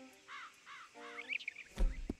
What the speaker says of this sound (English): Oh, there's some ravens there.